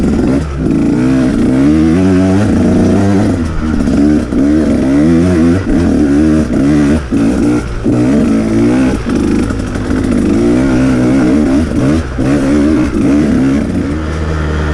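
A 2019 Husqvarna TE 150 two-stroke dirt bike engine revs loudly and close, its pitch climbing and falling in repeated throttle blips with a raspy, buzzing tone.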